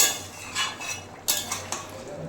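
A spoon scrapes and clinks against a pot while curry with potato and mutton is stirred, a few short metallic strokes close by over a low background, with no speech.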